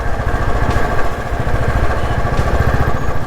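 Motorcycle engine on a foggy road ride, a loud steady mid-pitched motor drone with fine rhythmic pulsing throughout, close and continuous with no talk.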